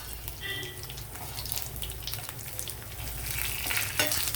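Garlic, cumin, mustard seeds and dried red chillies frying in hot oil, a dense, steady crackle and hiss heard close up, with faint clinks of stirring and no voices.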